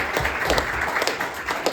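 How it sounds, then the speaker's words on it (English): Applause from the audience at an AI in production tech talk event as a speaker finishes, a steady broadband patter of many hands lasting under two seconds. "An applause for him."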